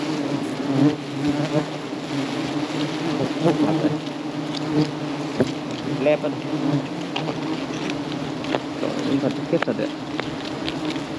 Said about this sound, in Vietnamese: ong bay vàng hết người luôn các bạn ơi